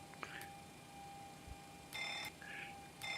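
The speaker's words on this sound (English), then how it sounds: "Can you hear that fire alarm in the cockpit?" Cockpit fire warning alarm in the X-Plane 12 flight simulator, a quiet series of short electronic beeping tones in bursts separated by gaps, faint over a low steady background hum, with no talking.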